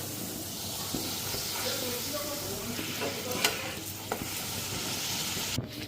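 Luchi fry in hot oil with a steady soft sizzle and occasional bubbling pops, close but fairly quiet, with faint talk in the background.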